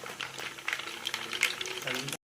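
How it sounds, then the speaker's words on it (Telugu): Fenugreek seeds fry in hot oil for mango pickle, giving a close bubbling sizzle with scattered small pops that swell and fade before cutting off abruptly. "ఇక మెంతులు వేసేస్తున్నా."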